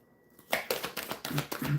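Quick riffle-like bursts of tarot card shuffling, several short crisp flurries in a row, close and fairly quiet with no talking.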